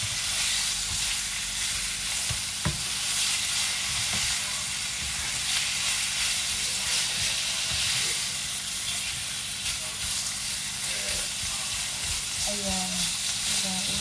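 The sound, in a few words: beef stir-fry with mixed vegetables sizzling in a pan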